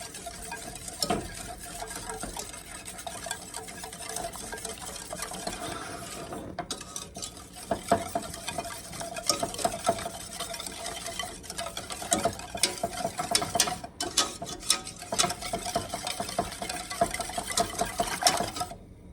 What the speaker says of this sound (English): I'm gonna switch to my other whisk first, just to make sure all that flour is broken up.